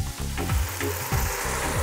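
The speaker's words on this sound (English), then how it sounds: "Stir the vegetables in the spicy oil. It's almost like stir frying." Cauliflower, green beans and carrots stir frying in spicy oil, with loud close sizzling and crackling broken by repeated scraping strokes of stirring.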